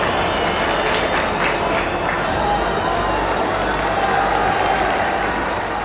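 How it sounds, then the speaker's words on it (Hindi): Applause and scattered cheering from a village crowd for Suraj, dense and steady clapping throughout, fairly close and filling the whole stretch without pause. "तालियां तो बजाओ अपने सूरज के लिए"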